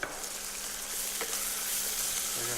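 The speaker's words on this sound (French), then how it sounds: "On doit d'abord faire sauter les légumes marinés qu'on a préparés" Pickled ginger, red chilies and other pickled vegetables stir-fried in a wok in a Sichuan restaurant kitchen, giving a steady close sizzle and crackle of hot oil with a brief scrape of the spatula midway.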